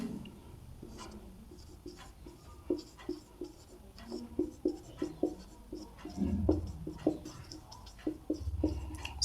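Pen or chalk writing out a class 12 maths solution on relations and functions, quick scratchy strokes and taps in irregular bursts, close and fairly soft, with a quiet voice at times.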